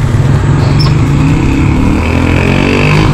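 A Benelli 300i and a Kawasaki Ninja 300 motorcycle run as a steady, close engine drone heading into a drag race, the note holding even with a slight rise in pitch toward the end.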